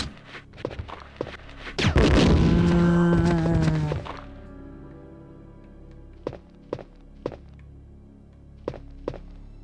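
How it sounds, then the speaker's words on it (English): A grenade launcher fires in Resident Evil 2 (1999): a burst of blasts with a long groaning tone, then a string of sharp, separated thunks spaced out across the rest of the clip. "I am whipping out the grenade launcher"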